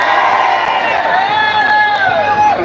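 A large crowd at a protest in Dublin, with Irish flags around, makes a loud, continuous roar of overlapping voices and shouts close at hand.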